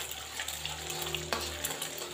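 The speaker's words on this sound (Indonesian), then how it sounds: "Ini saya orak-arik aja dengan secukupnya minyak, 3 sendok makan minyak." A single egg being scrambled in about three tablespoons of hot oil gives a steady, soft sizzle, with a faint clink from the pan partway through.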